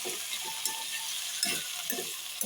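Food fries in a small pan over a medium gas flame, a soft steady sizzle with occasional stirring scrapes and clicks, fairly quiet and with no talking.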